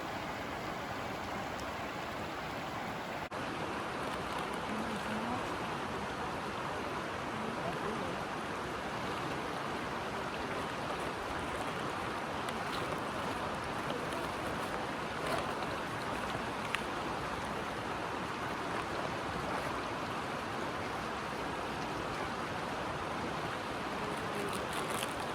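A cool stream flows continuously along a canyon trail in a state park, a steady broad rush of water close by that runs unbroken for the whole stretch, with no voices over it.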